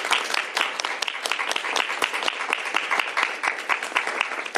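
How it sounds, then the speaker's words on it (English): Applause at a governor's bill signing for the bill's sponsors, a small room of crisp, fairly close hand claps in a steady continuous patter, moderately quiet. "Please give them a round of applause for their leadership on this bill."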